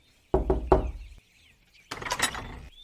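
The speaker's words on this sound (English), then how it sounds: "We're knocking and there's no one." Knocking on a door, three sharp raps in quick succession, loud and close, followed after a pause by a muffled burst of further noise.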